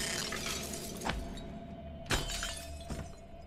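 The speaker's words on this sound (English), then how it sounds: "Can I break the glass, or will I have to start all the way over?" Glass shatters in the video game Prey, with a few sharp breaking bursts over a constant low game hum, and nobody talking.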